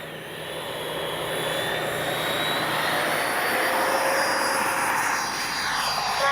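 A Freewing F-22 90mm RC jet with AS3X+ and takeoff flaps set, throttling up for takeoff: a steady ducted-fan roar and whine that builds gradually and holds, fairly close.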